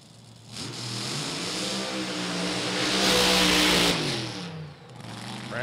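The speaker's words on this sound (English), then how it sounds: "blown alcohol car" Blown alcohol drag racing car at a dragstrip, its supercharged engine rising from a rumble into a loud, sustained howling roar that peaks and then falls away, close and dominant with no talking.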